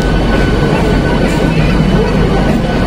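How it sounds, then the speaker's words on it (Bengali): Passenger train pulling away on a journey toward the Kumbh Mela in Prayagraj, heard from inside as a loud, constant low rumble with no breaks. "ছেড়ে দিয়েছে ট্রেন"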